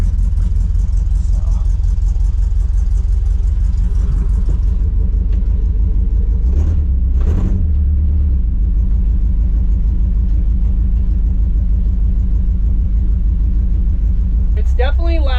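A lowrider project car drives slowly around the block, heard from inside the cabin with a steady, loud low engine rumble and a brief rev, while someone talks throughout.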